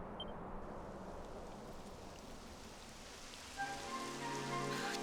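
Rain falling in Dragon Quest XI, a steady soft hiss of rainfall that continues throughout, with brighter tonal game sounds joining near the end.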